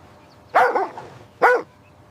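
Two separate dog barks, sharp and fairly loud, spaced almost a second apart against a quiet background.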